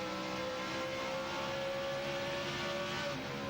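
Rusty Wallace's NASCAR race car engine screams at steady high revs during the 2002 Subway 400, a loud, continuous drone with no voices over it.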